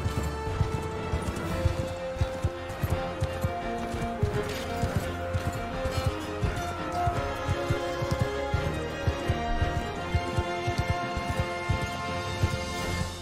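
Horse hooves clatter in the Mount & Blade 2: Bannerlord video game, a dense run of rhythmic thuds as mounts gallop, mixed with battle noise and music at a fairly low level.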